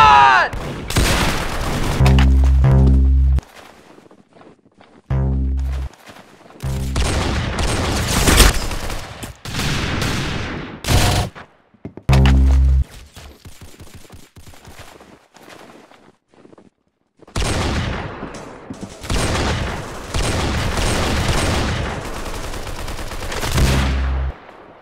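Video game gunfire in a montage cracks out in loud, rapid bursts and single heavy shots, separated by sudden silences and booming impacts, close and punchy with little voice present.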